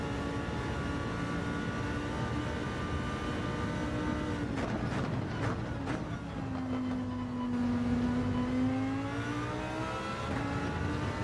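Lamborghini Huracan GR3 race car engine on the Lago Maggiore circuit in a racing video game, a steady loud drone with a brief burst of shifting and revs midway, then a rising and falling pitch sweep as the car works through corners.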